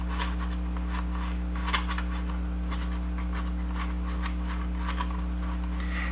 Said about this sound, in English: And now we're going to turn them again.